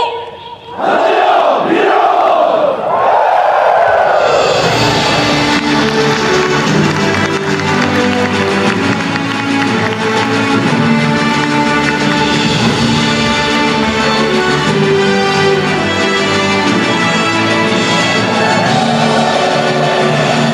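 A large crowd of newly commissioned military officers roars and cheers at a commissioning ceremony, a loud sustained shouting swell that rises suddenly after a brief lull and carries on without pause.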